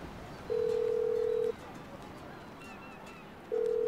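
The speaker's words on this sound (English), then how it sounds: "Should we try and phone Tracy" Phone ringback tones in Grand Theft Auto 5 on PS5: two long steady electronic beeps about a second each, separated by a two-second gap, clear over faint game background.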